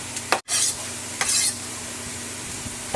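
Sausage and garlic sizzle in a frying pan while a utensil stirs and breaks up the meat, making bright crackling bursts with a short clattering scrape and a brief drop to near silence.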